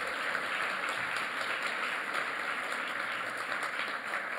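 Audience applause at a panel talk with actress Yalitza Aparicio: an even, continuous wash of clapping from a seated crowd, heard at a steady moderate level throughout.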